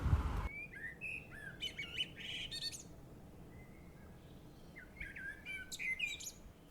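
Melodic blackbird song in short fluting phrases rises over a steady low rumble of background noise, pausing mid-clip before resuming.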